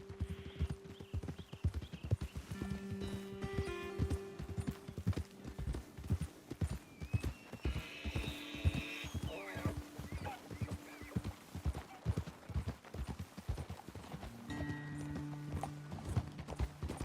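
Horse hooves clip-clopping at a walk in Red Dead Redemption 2, a steady close rhythm of hoofbeats running throughout, with brief neighs, snorts and tonal game sounds over it, no talk.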